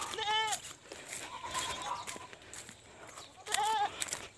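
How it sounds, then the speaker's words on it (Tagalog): Two wavering goat bleats, one at the start and one near the end, with farmyard noise and soft rustling between them. "Yung kambing natin."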